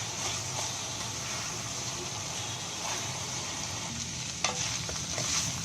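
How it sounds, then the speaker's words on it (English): Parboiled basmati rice stirred in a frying pan, a steady close sizzle and hiss with gentle scraping throughout and one sharper clink near the end, no voices. "our parboiled basmati or long grained rice and give this a good mix."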